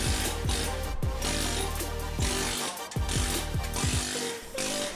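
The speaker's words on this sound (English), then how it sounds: "Run just enough air pressure to make the air chisel cycle." Pneumatic air chisel knocking slag and dross off plasma-cut steel parts, a loud, steady, rapid hammering rattle with sharp repeated impacts, run continuously and close up.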